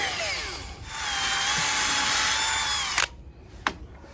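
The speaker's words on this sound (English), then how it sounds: "we start to drill all the holes to install the screw" A power drill whines steadily for a couple of seconds, boring screw holes into a teak boat toe rail, then stops; a couple of sharp knocks follow in the quiet.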